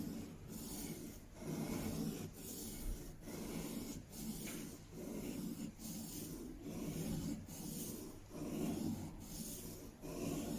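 An old chisel with a wide bevel rubbed back and forth on a budget 10k waterstone, in long, even, rasping strokes that repeat roughly every second, close and fairly quiet, with no voices.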